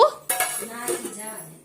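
A metal spoon stirring a cooking pot in a home kitchen gives a few sharp clinks and scrapes against the rim, close and fairly loud, then rings away.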